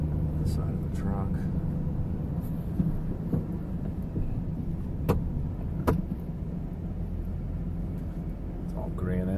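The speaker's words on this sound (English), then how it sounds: "See this V-plow, I'm just idling through here." Pickup truck fitted with a V-plow idling through snow in a granite-lined yard during a heavy storm, a steady low engine rumble heard close inside the cab with occasional clicks and knocks.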